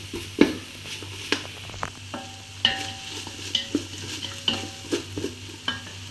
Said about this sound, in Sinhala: දැන් මේක ටිකක් අපි බැදෙන්න ආරිමු